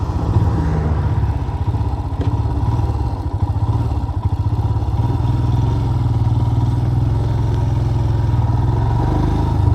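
A Royal Enfield Himalayan motorcycle pulls away on an empty road, its engine a steady, loud low rumble with a rapid thumping beat that holds fairly even as the bike moves off, with no talking.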